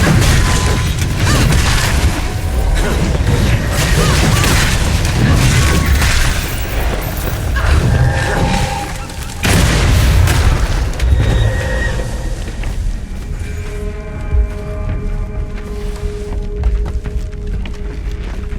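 Explosions in the video game Flintlock: The Siege of Dawn, heavy booming blasts and rumbling debris in dense bursts, loud and close, fading into quieter tonal game sounds toward the end.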